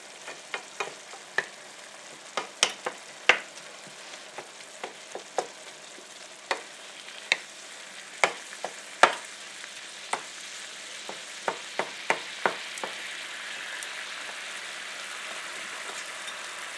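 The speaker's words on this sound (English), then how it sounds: "do up your ground beef and season it to your liking" Ground beef sizzles steadily in a hot pan, with sharp irregular pops and a spatula scraping, close by and without talking.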